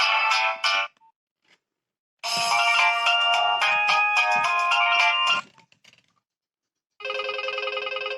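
Two different electronic ringtones from a Nokia 1208 mobile phone play in turn, the first a busy melodic tune, then after a pause a rapid, steady repeating trill, loud and close.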